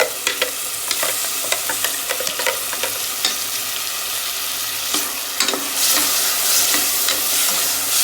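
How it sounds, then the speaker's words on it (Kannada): Ground masala paste fries in hot oil for mushroom biryani. A spoon stirs it steadily through a continuous close sizzle, with repeated scraping clicks, and the hiss swells louder toward the end. "ರುಬ್ಬಿರುವಂಥ ಮಸಾಲೆಯನ್ನು ಆ್ಯಡ್ ಮಾಡಿಕೊಂಡು ಒಂಚೂರು ಚೆನ್ನಾಗಿ ಹುರ್ಕೊಳ್ಬೇಕು."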